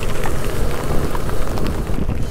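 Heavy rain pours down during a motorbike ride through dense forest, a loud continuous hiss and patter mixed with rushing wind noise, with no speech.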